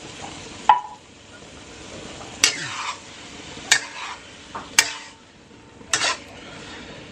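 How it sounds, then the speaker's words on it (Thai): Rice stir-fried with egg and canned fish in a pan, a spatula striking and scraping the pan about five times in a loose rhythm over a low, continuous sizzle, close by, with no talking. "วันนี้ผัดบวกใส่ไข่แล้วก็ใส่ปลากระป๋องครับ"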